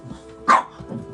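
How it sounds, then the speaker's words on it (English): A single sharp bark from a playful pug rises over a quiet room, brief and close, with faint low background noise around it. "one of our pugs are barking, and they are playing"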